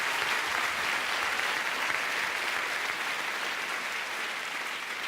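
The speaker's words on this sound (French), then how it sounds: "on peut les applaudir." Theatre audience at the Olympia applauding steadily, a dense, even wash of clapping from many hands that holds at full strength throughout and eases only slightly at the end, with no talk over it.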